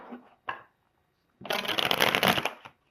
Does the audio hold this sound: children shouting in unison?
no